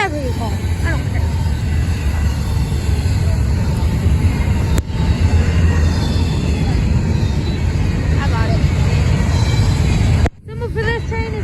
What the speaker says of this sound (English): For this train is Norfolk Southern 23G.